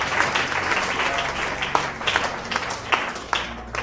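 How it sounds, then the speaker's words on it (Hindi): A church congregation applauds in praise, with dense, sustained clapping that fills the room and sharper single claps standing out now and then. "एक बार फिर से जोरदार ताली बजाइए प्रभु की महिमा में"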